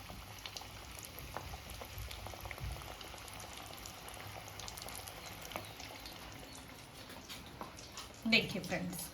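Chicken lollipops bubble and sizzle steadily in hot oil during deep frying, a continuous crackle at moderate volume, with a brief louder clatter near the end.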